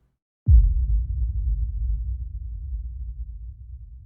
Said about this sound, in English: we have this impact that is low passed